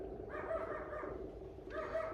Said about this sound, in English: Now there's people outside. She's going to bark.